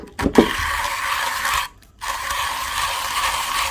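A 1Zpresso hand coffee grinder crushing Ethiopian beans gives a steady, close ratcheting crunch that breaks off for a moment and then resumes, with a couple of sharp knocks at the start.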